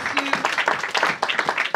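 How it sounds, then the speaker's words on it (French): Audience clapping in a fast, irregular patter, fairly close and moderately loud, with a brief tone in the background. "que tu peux applaudir pour Jésus?"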